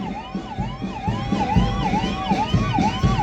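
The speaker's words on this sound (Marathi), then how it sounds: "रुग्णवाहिका वाहन" An ambulance siren wails in a steady repeating rise-and-fall pattern, loud and close, over low rumbling traffic, at a Maharashtra Day government ceremony at Nehru Stadium, Amravati.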